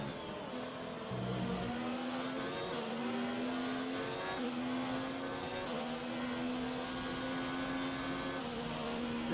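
Formula 1 race car engine from F1 2019 at the Bahrain circuit, whining continuously at high pitch as it climbs and shifts gears several times, loud and steady with no talking.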